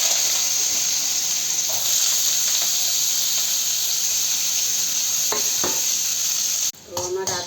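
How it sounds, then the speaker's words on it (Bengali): Chopped potatoes frying in hot oil in a wok, a loud, steady sizzle and hiss with occasional scraping stirs of a spatula, ending in a clatter of handling. "এবার আমি আলুটা দিচ্ছি।"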